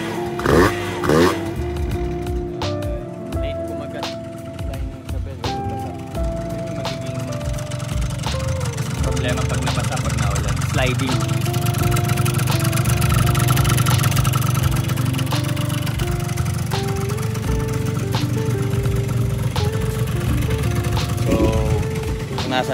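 Honda Dio scooter engine held at high revs after a wash, a sustained mechanical drone with rattling belt noise, loud and continuous for over twenty seconds.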